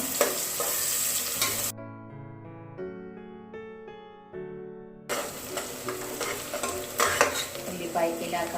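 Chopped onions fry on a medium flame in a pan for a Natu Kodi chicken curry, a steady close sizzle that breaks off for a few seconds of melodic tones, then returns full and crackling.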